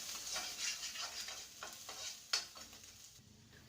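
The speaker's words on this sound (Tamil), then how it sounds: "இந்த பூண்டை நல்லா செவக்க வதக்கிங்க." Six finely chopped garlic cloves fry in hot oil for egg fried rice, a faint, soft sizzle with a few light scrapes and taps of a stirring spoon.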